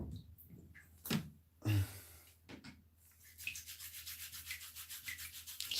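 Barnacle-like growths being scrubbed off bare toes, a quiet, steady rasping rub that turns into a fast run of rhythmic brushing strokes in the second half, with a couple of dull knocks early on and no talking.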